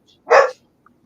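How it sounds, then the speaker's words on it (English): A single dog bark, one short loud burst near the middle, with quiet room background before and after. "Listen, the dog's barking because that's what he does every night"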